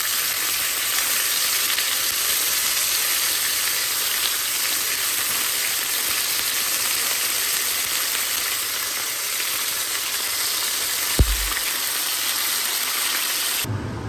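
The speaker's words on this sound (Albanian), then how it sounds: "Pasi që është nxehur vaji, morim pra biftek të viqit edhe karodisin me vaj, me të 2 onë." Beef steaks fry in hot oil with a loud, steady sizzle that holds evenly throughout, broken once near the end by a single brief knock before the sound cuts off.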